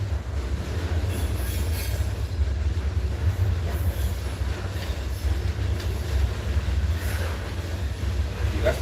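The cow train rolling past, a steady heavy rumble of rail cars with faint wheel squeal and clatter, continuous and fairly close throughout.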